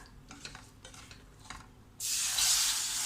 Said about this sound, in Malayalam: ഇനി നമുക്ക് അത് പാലൊഴിച്ച് കൊടുക്കാം